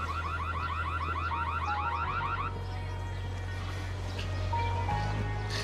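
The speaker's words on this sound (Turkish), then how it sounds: "Kesin yanlış alarm." A false fire alarm sounds in a building during a Turkish TV drama scene, a fast, repeating warbling beep that is prominent for the first couple of seconds and then fades behind a steady low hum and quieter tones.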